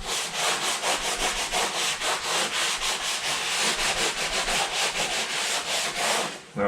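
Rapid, rhythmic scrubbing of a damp sponge against a drywall patch, close up, dozens of short strokes in a steady back-and-forth pattern.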